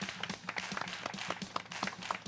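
A studio audience claps to welcome guests from OMR Technology and their robots on an educational TV broadcast, a brisk, continuous patter of many hands at moderate volume without any voices.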